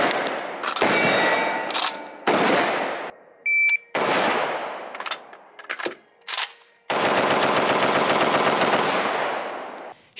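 A 5.56 AK rifle fires loud, close bursts of automatic gunfire, with several short strings, brief pauses and single shots, ending in a longer sustained burst. No voices are heard.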